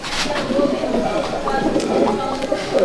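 Pigeons coo continuously in a loft in Barrackpore, North 24 Parganas, a dense, steady murmur of overlapping birds at close range with some talk mixed in.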